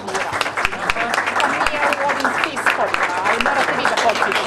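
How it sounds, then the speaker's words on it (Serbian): Audience applause at a university computing faculty graduation ceremony, steady dense clapping from a large crowd filling the whole stretch, loud and close, with some voices mixed underneath. "zamolio bih vas još jednom samo za aplauz za ove ljude koji nisu ovde"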